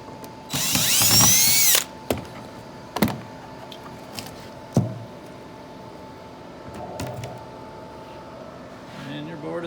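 A power drill whirs loudly for about a second as it backs out a screw from a CNC-cut longboard, followed by a few sharp clicks and knocks in a quiet room.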